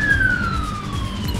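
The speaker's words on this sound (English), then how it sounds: "There's some sirens going by." Sirens of emergency vehicles passing by wail with a steady falling tone that is moderately loud and slightly distant, set over a low background rumble.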